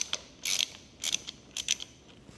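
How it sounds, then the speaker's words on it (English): A 10mm bolt backed out of a hand guard on a Honda Transalp motorcycle, giving three short bursts of metallic ratcheting clicks, close and fairly quiet, with pauses between them. "Now we'll actually back the 10mm bolt there out as well."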